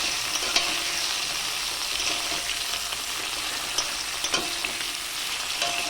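Cauliflower pieces fry for a koi fish curry, crackling and sizzling steadily in hot oil in a pan, a close, even hiss with a few sharper pops and no talking.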